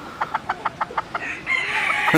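A rooster among Ayam Cemani and other breeds crows once, opening with a quick run of about seven evenly spaced clucking pulses that stretch into a drawn-out, strained call, close and moderately loud.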